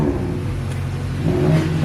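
Acura Integra with a muffler delete revving as it drives off, a loud, steady raspy engine drone rising slightly in pitch, close by with no talk.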